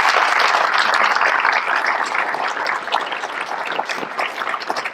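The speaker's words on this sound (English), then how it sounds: "Let's give everybody a great round of applause." Audience at a high school Wall of Fame induction ceremony claps in a sustained, dense round of applause, loud and continuous before gradually thinning out.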